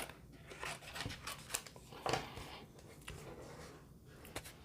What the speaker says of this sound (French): Fait que je reviens faire ici ma découpe.